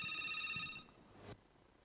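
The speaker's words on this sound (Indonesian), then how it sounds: "kita terima telepon terlebih dahulu" A telephone rings once on a radio call-in show, a bright electronic trill that stops and is followed by a short click as the line is picked up, with no talk over it.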